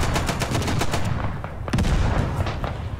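A Chauchat machine gun fires a rapid string of shots in a World War I battle in the Beyond The Wire game at Chateau-Thierry, followed by a pause and a second short burst over a rumbling battlefield background.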